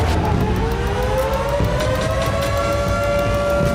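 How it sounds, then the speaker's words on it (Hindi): A civil defense air raid siren wails continuously across Israel, its tone rising slowly, over a steady background roar. "इजराइल में हर तरफ सायरन की आवाज गूंज रही थी।"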